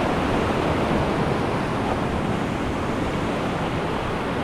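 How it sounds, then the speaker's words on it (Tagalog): Small, gentle sea waves at a fishing spot, heard as a steady, unbroken wash of broadband surf noise that stays even throughout with no distinct breaking crashes and no voices. "Hindi na ganoon kalalaki yung alon ngayon."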